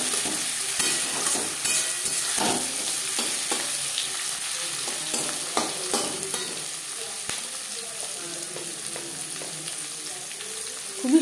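Onions and tomato sizzle and fry in a pan for khichuri, a steady close crackle with occasional stirring scrapes and pops throughout.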